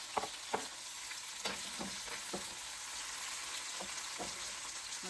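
Spices and bay leaves frying in oil in a pan while squid is being cooked, a fairly quiet, even crackling sizzle throughout, with a few early spatula clicks and light scrapes, close by and with no talking.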